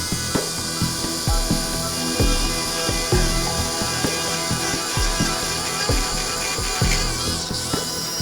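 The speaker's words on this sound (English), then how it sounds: "if she drills too far, she could drill right into the spinal cord, permanently paralysing Frankie" A surgical drill works through a dog's spine during veterinary spinal surgery in an operating theatre, giving repeated short close bursts of grinding and whirring in a steady rhythm over a constant hum of equipment, with no talk.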